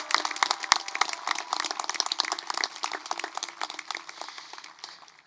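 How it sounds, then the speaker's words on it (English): A graduation audience applauds the high school class of 2021 with dense, lively clapping that rises quickly and then slowly thins out, heard from within the crowd. "let's give it a round of applause for the class of 2021"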